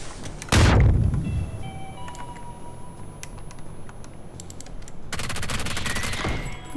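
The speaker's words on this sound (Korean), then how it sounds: "수류탄" Grenade blast in a battle royale video game: a loud, sharp explosion that booms and rumbles off, then a quieter stretch of distant shots, and near the end a burst of gunfire.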